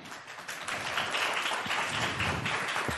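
Scattered applause from an audience at a Colorado Assembly hearing on medical marijuana, a soft, fairly distant patter of hand claps that swells and continues for a few seconds with no talking over it.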